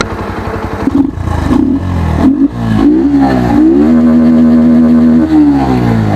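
A new Bajaj Pulsar NS 125 motorcycle idles close up with a loud, steady exhaust note, broken early by several sharp throttle blips and revs before settling into an even, throbbing idle.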